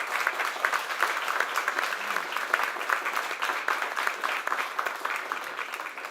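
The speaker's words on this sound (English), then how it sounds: "So can you give them a round of applause?" A lecture audience gives students a sustained round of applause at an architecture talk, the steady dense clapping holding at an even level throughout without any voice on top.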